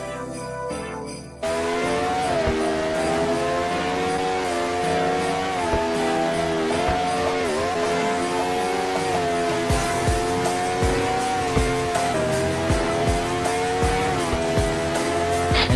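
A McLaren GTR race car in a video game roars with a loud sustained engine drone that rises and falls through gear changes, with tire squeals and skidding bursts toward the end and no talk.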